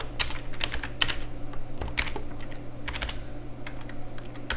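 Rapid typing on a computer keyboard while writing shell script code, a steady stream of close, crisp key clicks with irregular rhythm and no talking.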